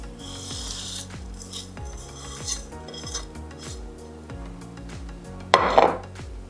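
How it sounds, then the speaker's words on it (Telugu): Palm fruit pulp and jaggery are stirred together in a pot, a spoon scraping the metal in repeated rhythmic strokes, fairly soft and close, with a brief louder clatter near the end. "తర్వాత బెల్లం వేసుకొని కలుపుకుందాం."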